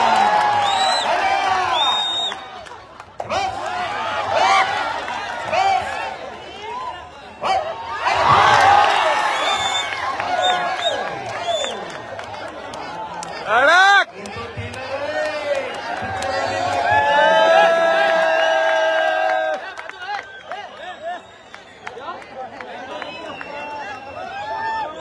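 A huge open-ground crowd at a Thane Kesari wrestling tournament roars, whoops and whistles in waves, loud and continuous, with a commentator speaking over the din.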